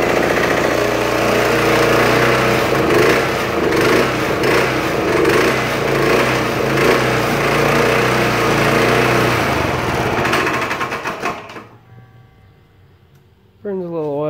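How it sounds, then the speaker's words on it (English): A gas lawnmower with a pull-start, set on choke, running loud and close with a steady buzzing engine drone that cuts out near the end, leaving brief quiet before a short rising whine. "You just kind of put it on choke and give her a pull."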